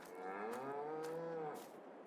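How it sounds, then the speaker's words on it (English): A cow in the Farming Simulator 22 video game gives one long, clear moo lasting over a second, loud and alone against a quiet background. "Cows are doing well."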